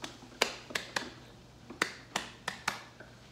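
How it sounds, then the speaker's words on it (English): About eight sharp, crisp hand claps ring out alone in an uneven rhythm, some in quick pairs and others spaced apart, each one close and distinct. "If you're happy and you know, clap your hands."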